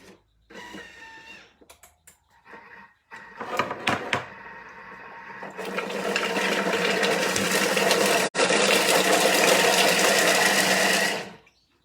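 Kitchen food processor at speed 5 crumbling an apple crumble mixture, with a few short bursts of whirring and rattling before a long, loud, steady buzzing run that stops abruptly near the end.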